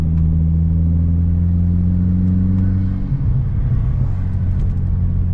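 A tuned Stage 3++ Audi A4 rated at 450 hp drones steadily from inside the cabin, its deep exhaust hum breaking into rough crackling pops and burble as the engine note drops.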